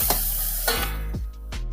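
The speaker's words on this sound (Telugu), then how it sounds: "తాలింపు అయిందండి, మనం పప్పులో వేసేసుకుందాం." A hot tempering is poured into lentil dal made with amaranth leaves, setting off a close sizzle. Several sharp bursts hiss and fade in quick succession.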